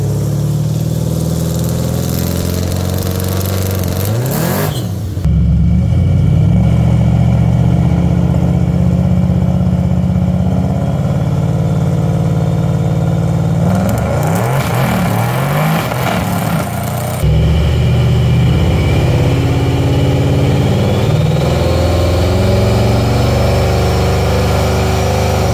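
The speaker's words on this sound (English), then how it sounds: "Now floor it to build boost towards a converter." A car with an 8HP automatic gearbox, MaxxECU control and a transbrake is floored against the brake to build boost, its engine droning loud and steady with two surging rev swells, no talk over it.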